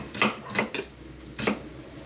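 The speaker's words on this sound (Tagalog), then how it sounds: "Ibigisa ko siya sa bawang sibuyas at luya." Metal utensil clanks and scrapes against a pan while milkfish is sautéed with garlic, onion and ginger, four distinct close knocks with quiet gaps between.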